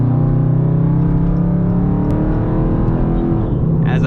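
A Dodge Charger 392 Scat Pack engine revs hard toward redline, a loud, steady, close-up roar that holds its pitch and then eases off slightly at the end.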